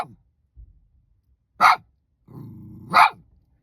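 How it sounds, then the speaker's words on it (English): A dog barks loudly twice, close by, with a low growl between the barks and quiet pauses around them. "Oh, that barking."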